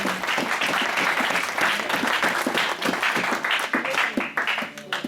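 A church congregation applauding during a seminar, steady loud sustained clapping from many hands filling the room, with voices mixed in and the clapping thinning slightly toward the end.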